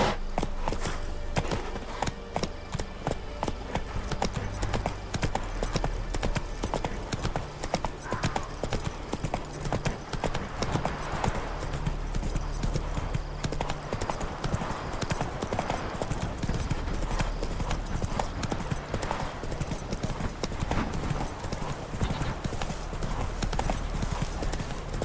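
A horse gallops in The Witcher 3 video game, loud rapid hoofbeats in a steady driving rhythm throughout, with occasional faint game sounds.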